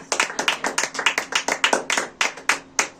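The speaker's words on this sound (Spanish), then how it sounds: "Denle un aplauso fuerte al Señor, por favor." Church congregation claps loudly and rhythmically in a steady, pulsing beat, close and clear with little else beneath it.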